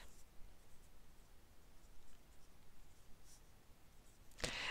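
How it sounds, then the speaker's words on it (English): Pen drawing a Zentangle pattern on paper, faint soft scratching strokes close by against a quiet background, ending with a sharp brief tap or click. "And I'm going to write this in here."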